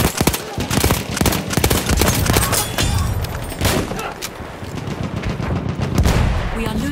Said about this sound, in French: Une mitrailleuse hostile!